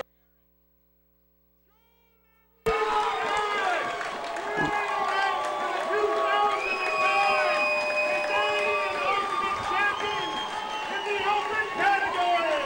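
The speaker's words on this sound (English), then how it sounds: "everyone here is standing on their feet and cheering" After a moment of silence, a stadium crowd at an Ultimate frisbee open national championship final bursts into loud, sustained cheering with whistles and shouting voices.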